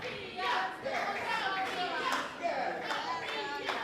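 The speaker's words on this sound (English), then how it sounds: "Sophia Rose, the crowd, listen to them" Crowd at an independent wrestling show cheering, shouting and clapping in an indoor venue, a dense continuous mix of voices and hands rising in waves, with children's voices noticeable among them.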